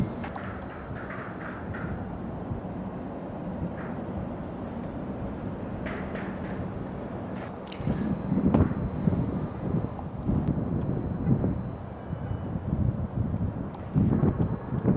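Outdoor wind buffets the microphone beside a city boulevard, a steady low rumble that swells into louder gusts in the second half with no voices.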